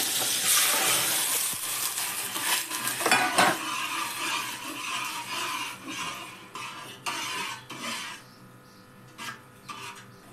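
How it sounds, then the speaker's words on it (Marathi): Garlic tempering with curry leaves sizzles and crackles in a hot pan, a loud frying hiss at first that is stirred and scraped with a utensil, then settles into softer intermittent sizzling. "लसणाचीच फोडणी घालते"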